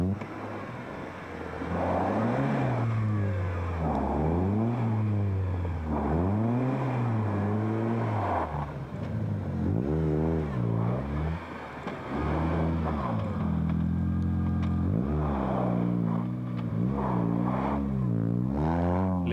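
A winter rally car's engine revs hard again and again as the car is rocked back and forth, with loud, close surges rising and falling in a steady rhythm and no voices.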